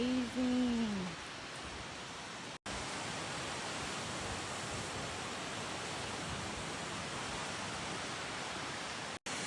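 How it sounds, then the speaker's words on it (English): A waterfall on a family hiking trail roars as steady, broadband rushing water, loud and continuous throughout, with a brief voice at the start. "We made it to the waterfall."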